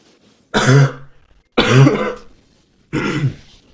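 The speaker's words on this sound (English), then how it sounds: "Sorry for the coughing." Three harsh bursts of throat clearing and coughing, close and loud, spaced about a second apart with quiet between them.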